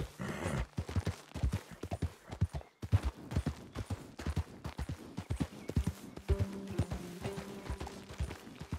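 Horse hooves clip-clop at a steady canter in Red Dead Redemption 2, close and rhythmic, with a brief pause near the middle and a tonal game sound joining toward the end.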